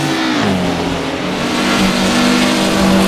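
Race car engine lapping the narrow, bumpy Pescara road circuit in Assetto Corsa, a loud, close, continuous drone that rises and shifts pitch through the gears without a break, with no talking.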